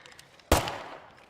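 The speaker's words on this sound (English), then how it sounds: "So we have to deal with whatever we call in with that gunshot." A single gunshot in the video game State of Decay 2, fired into a wall: one sharp, loud crack followed by a short, rumbling decay, with no voices.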